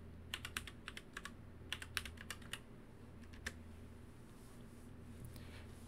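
A password tapped out on a computer keyboard: bursts of crisp, close key clicks in quick uneven runs, followed by a few seconds of quiet room noise with no talking.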